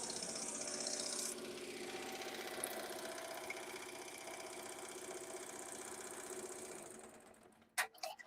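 An embroidery machine stitches out a name with a fast, steady mechanical needle chatter close by, ending with a few clunks as it stops.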